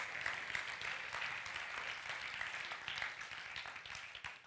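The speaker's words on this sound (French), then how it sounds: "Ouais, applaudissez, ouais" An audience at a talks event breaks into steady, dense applause, a continuous rattle of many hands held at an even level for several seconds, heard at some distance.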